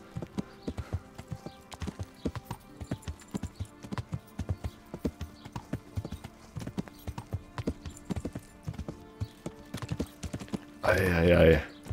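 Horse hooves clip-clopping in the video game Kingdom Come: Deliverance, a brisk, steady rhythm of close hoof strikes, ending with a short loud burst of another sound.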